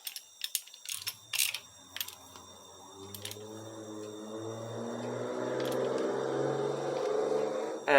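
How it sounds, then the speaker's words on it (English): A ratchet tightens the timing belt tensioner on a Mitsubishi 2.5L 4D56T diesel engine under overhaul. A few sharp clicks and knocks come first, then a steady rising mechanical whir builds up close by, with no voices. "Now we can tighten up that tensioner."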